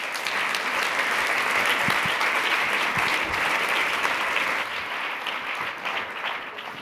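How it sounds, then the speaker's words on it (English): A conference audience claps for an arriving speaker, a dense sustained wash of many hands at strong volume that tapers slightly toward the end. "let's give him a round of applause"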